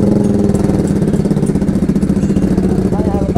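A Bajaj Pulsar RS 200 motorcycle fitted with a loud full-system exhaust idles close by, giving a deep, bassy, rapidly pulsing rumble that stays steady throughout.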